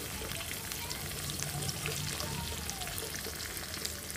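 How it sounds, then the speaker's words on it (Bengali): Whole spices for tempering fry in hot oil in a home kitchen before boiled vegetables go in, a soft steady sizzle with light crackle, fairly quiet and continuous without talk. "তো ফোড়নটাকে সুন্দর করে আগে ভেজে নেব বন্ধুরা। তো ফোড়নটা ভাজা হতে থাকুক।"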